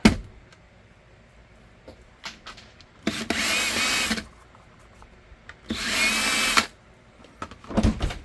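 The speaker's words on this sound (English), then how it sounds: "we got to drill those out" A power drill bores holes in a Ruger 5.7 pistol holster being built, with two separate whirring runs of about a second each, close and fairly loud. Scattered clicks and handling knocks fall between the runs.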